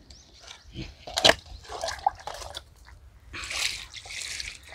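Water poured onto a newly planted Brahmakamalam in a garden bed trickles and drips in short uneven bursts, soft and close, with faint splashes and moist soil sounds.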